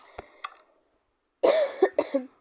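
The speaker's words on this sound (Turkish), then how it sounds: "hasta olduğum için birazcık öksürüyorum" A short burst of hissy noise, a pause, then a cluster of several raspy coughs up close from a sick person.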